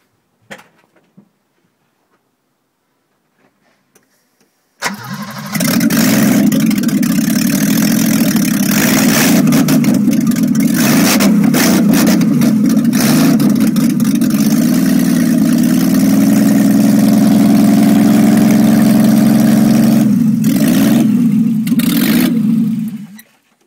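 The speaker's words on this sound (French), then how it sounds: "Vas-y, démarre le BM." A BMW E28 520i with a straight exhaust cranks briefly and fires up near 5 seconds, then settles into a loud, steady, rumbling idle close by, with slight wavering but no hard revs, until it cuts off near the end.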